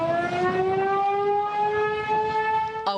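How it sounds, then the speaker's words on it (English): A loud, steady tornado warning siren wails continuously in Menasha, holding a bright tone with strong overtones throughout, then briefly cuts off near the end. "warning siren still blaring"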